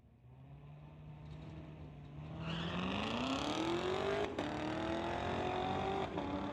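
A 2016 Corvette and a 2008 BMW launch in a street-legal drag race, engines rising from a low rumble into a climbing, roaring acceleration with gear-change breaks, heard at a moderate distance.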